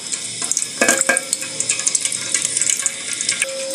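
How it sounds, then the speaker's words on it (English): A knife dipped into hot frying oil while making cinnamon mandazi: short bursts of sizzling and bubbling crackle right up close, with metallic taps and no talking. "I put my knife in the hot oil."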